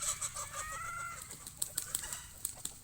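Young hens cluck and chatter close by, a busy run of short calls over a steady farmyard hiss.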